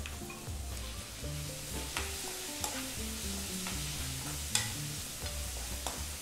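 Onions and tomatoes sizzle steadily in a hot pan for dal while a utensil stirs and scrapes, with occasional sharp clinks over a low background hum.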